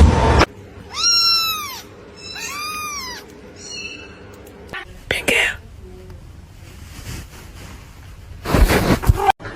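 Cats meow in two clear, drawn-out cries close to the mic, followed by a softer higher meow, then scattered knocks, whispery sounds and a loud rustling burst near the end.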